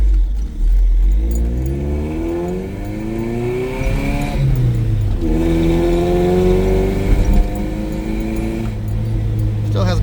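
A 1985 Toyota 22RE pickup fitted with a Flowmaster muffler pulls hard through first and second gear, its exhaust note climbing, dropping at the shift, then rising again, loud and close throughout.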